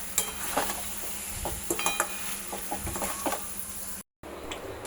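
Desi chicken with turmeric being stirred in a pan: a run of scraping spoon strokes and light metal clinks over a soft sizzle, with one brief dropout near the end and no talking.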